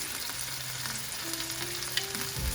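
Lemon added to a pan of cooking salmon sets off a loud, continuous sizzle and frying crackle that holds steady throughout, with no voices.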